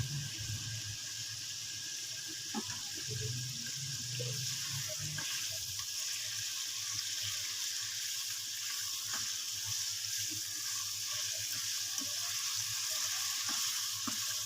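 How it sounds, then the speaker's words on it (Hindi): Chicken pieces for a white chicken karahi frying in a pan until lightly golden, giving a faint, steady sizzle with a soft watery hiss and occasional light stirring clicks, with no talking. "हल्का सा आप इसे गोल्डन सा फ्राई कर लें, ज़्यादा नहीं।"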